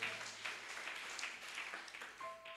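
A church congregation claps together, a faint, steady patter that sounds distant and softly diffuse, with a brief sustained tone toward the end.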